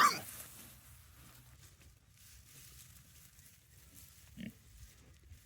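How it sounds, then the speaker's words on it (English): Nine pigs move onto a green grass pasture on a farm, with soft low grunting and rustling footsteps, fairly faint and steady, and a brief louder grunt near the end. "Now, these pigs are very used to moving."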